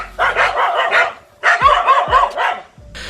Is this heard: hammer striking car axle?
no